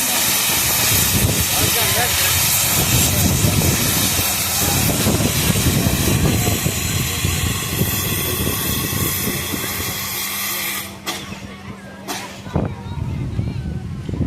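Antique steam engine hissing steadily at a threshers association engine show and tractor pull, a loud continuous broadband hiss throughout, dipping briefly near the end, with a low hum and a voice talking over it.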